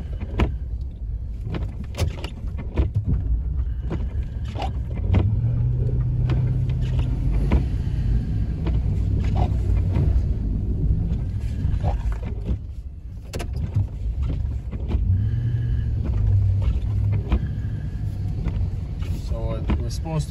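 Pickup truck fitted with a Western Wideout plow pushing heavy snow during a 10-inch storm: steady close engine rumble with scraping and clunks throughout, under a voice talking.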